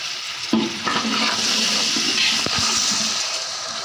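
Tomatoes and green chillies frying in a pan for chana pulao, a steady close hiss of sizzling with occasional soft stirring clatter and no talk.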